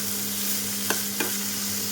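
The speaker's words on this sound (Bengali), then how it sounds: "তো এটা এখন খুব ভালোভাবে নেড়ে চেড়ে নেব" Vegetables fry with browned onion and chili under a steady loud sizzle, with two quick scraping stirs of the spatula partway through.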